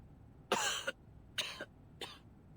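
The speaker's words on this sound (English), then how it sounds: "And now I cough and splutter just like it does." Three raspy coughs in a row from a character in the video game Reverse: 1999, the first longest, each a short harsh burst with quiet gaps between, close and moderately loud.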